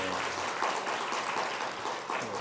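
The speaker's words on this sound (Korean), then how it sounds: "우리 격려의 박수하겠습니다." A church congregation at a Korean worship service applauds in encouragement after a choir hymn, a steady, even wash of clapping that lasts throughout without speech.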